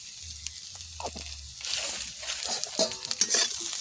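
Turmeric being stirred in a frying pan in a village kitchen: quiet at first, then a rising sizzle with scraping spatula strokes and light clinks of the pan.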